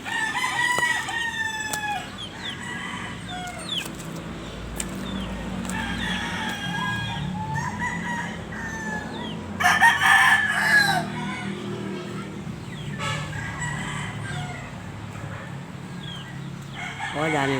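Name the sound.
chicken crowing and clucking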